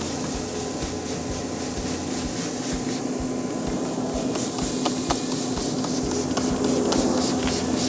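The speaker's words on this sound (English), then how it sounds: "So I've just got some regular water here. We're going to spray it and rehydrate." Short hissing spritzes from a spray bottle, several quick bursts close by over a steady background hum.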